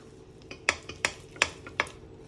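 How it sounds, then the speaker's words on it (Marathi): Chocolate spread being stirred into a barfi mixture in a pan, with four or five sharp spoon clicks and scrapes against the metal at an uneven rhythm, close and fairly quiet. "अर्ध्या मिश्रणामध्ये आता आपण हे 2 टेबलस्पून चॉकलेट स्प्रेड टाकून घेऊ. हे मिश्रण आपण व्यवस्थित मिक्स करून घेऊ"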